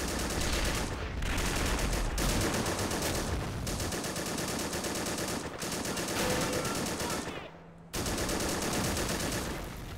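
Dense, continuous automatic gunfire from a squad in the World War II video game Flags of Our Fathers, running with the RobZ Realism Mod, with loud overlapping bursts and one short gap before the firing resumes.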